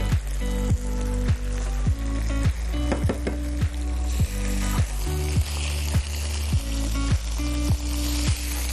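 Sea bream sizzles steadily in a pan, and a regular clacking of a utensil against the pan keeps time about twice a second, close and loud with no talk.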